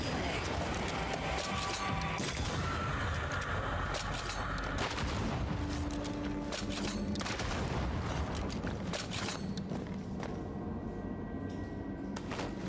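Dense, continuous battle din of scattered gunfire in the game Banishers: Ghosts of New Eden, shots crackling steadily throughout amid layered action noise, with voices mixed in.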